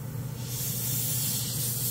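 Badger Sotar detail airbrush spraying paint, a steady close hiss of air that rises slightly partway through and holds for about two seconds with no talk.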